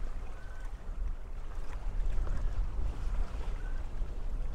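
Steady wind and water rush while sailing a boat near New Bern, a constant broadband roar with low buffeting gusts and no talking.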